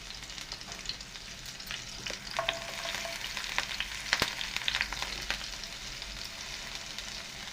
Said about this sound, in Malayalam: അതിലേക്ക് നമുക്ക് അരിഞ്ഞു വെച്ചിരിക്കുന്ന ഇഞ്ചി സവാള പച്ചമുളക് ഇതെല്ലാം ചേർക്കാം